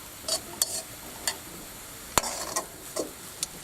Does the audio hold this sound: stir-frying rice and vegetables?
yes